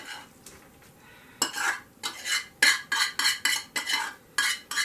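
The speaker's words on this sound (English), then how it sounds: "I'm gonna spoon my apples right out onto the cake batter" Spoonfuls of mashed apples scraped off a spoon onto cake batter for apple chess bars, a quick run of close, repeated metal-on-bowl scrapes and wet plops after a quiet start.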